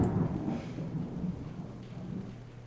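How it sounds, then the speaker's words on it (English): A low rumble of thunder rolls in, strongest at the start and fading into a long, soft, distant grumble. "Wow, I heard thunder."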